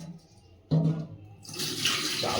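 Water pours and splashes while potatoes are washed. A brief knock comes first, then a sudden burst of running, gushing water rises and continues close and fairly loud. No one speaks.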